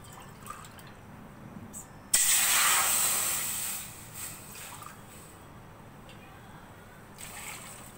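Water is poured into a pan for sugar syrup, giving a sudden loud hissing splash that fades over about two seconds, followed by faint drips and kitchen room noise.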